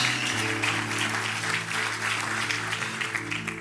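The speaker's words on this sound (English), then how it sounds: "Can somebody give God a clap offering?" A church congregation claps during a sermon, steady applause over sustained organ or keyboard tones that hum underneath throughout.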